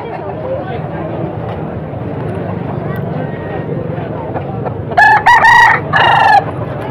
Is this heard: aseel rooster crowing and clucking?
yes